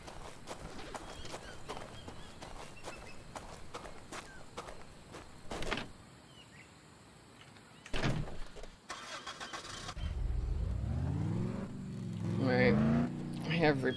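A car engine starting in Dead Island: Riptide, the crank and rising motor rumble arriving after scattered footsteps and clicks, then revving with climbing pitch toward the end.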